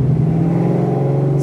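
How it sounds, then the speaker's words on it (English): A supercharged 1993 Fox Body Mustang with BBK long tube headers, a Flowmaster off-road H-pipe and 3-inch Flowmaster exhaust holds a steady, loud, deep engine rumble close by, with no talk. "I have BBK long tube headers with Flowmaster off-road H-pipe, and Flowmaster's all the way out, 3" all the way out the back"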